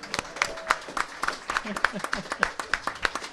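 An audience applauds a hypnotherapist, with clapping that comes in an uneven, fairly thin pattern of claps while people talk over it.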